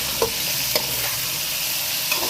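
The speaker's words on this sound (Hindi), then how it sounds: "इसको अच्छी तरह से फिर से थोड़ा फ्राई कर लेंगे" Potatoes frying with tomato paste and chopped green chillies for aloo bhujia sizzle loudly and evenly up close, with a few soft spoon scrapes as the mixture is stirred, and no voices.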